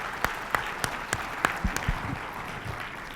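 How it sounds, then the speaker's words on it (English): An audience at a trading seminar gives a round of applause, sharp claps standing out at first before settling into a softer, thinning patter that fades toward the end. "Okay, so guys, another warm round of applause for Mr. Lawrence Lee."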